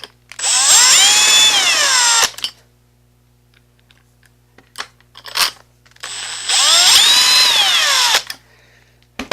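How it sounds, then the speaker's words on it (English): A power drill drives medium-length screws into a lock's flat plate in two long, loud whirring bursts with rising pitch, separated by a quieter pause with faint clicks and handling noise. "Now I'm only putting those in most of the way with a drill"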